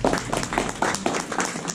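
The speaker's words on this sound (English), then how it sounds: "Give yourself a round of applause, please." A meetup audience gives a round of applause after an agile talk, a dense steady patter of clapping running the whole moment at moderate loudness with a faint murmur underneath.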